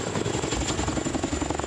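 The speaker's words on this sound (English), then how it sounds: "The other beautiful thing about this helicopter is it can also fly at night." A Los Angeles County firefighting helicopter runs with a loud, steady throbbing rotor and whining engine, close and continuous for a short stretch, with no talking.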